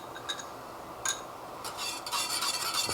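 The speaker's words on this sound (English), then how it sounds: "and then just stir to mix it all together" Cornstarch slurry being stirred into a rolling-boil pot of food during bulk family cooking: a spoon scrapes and swirls in soft, steady strokes with a few brighter clinks against the pot, close and moderately quiet.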